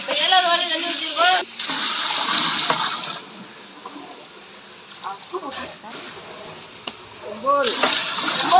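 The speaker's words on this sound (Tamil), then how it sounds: "இப்ப ஏழாவது வாலி தண்ணி ஊற்றிருக்கோம்" A bucket of water gushes and splashes into a large pot for cooking 30 kilos of chicken biryani, with the pouring loud in bursts and people talking around it.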